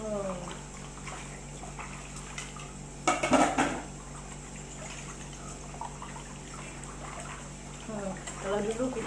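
Plates, dishes and cutlery clink and clatter in water as they are washed by hand at a village gathering, with trickling water and voices talking throughout.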